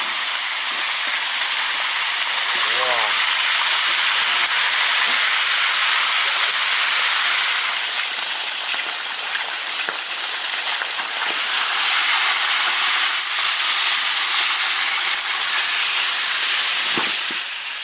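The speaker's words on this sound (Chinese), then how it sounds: "鱼下锅煎" Silver carp fry in a large iron wok, giving a loud, continuous sizzling hiss that stays strong throughout, with occasional faint pops and knocks.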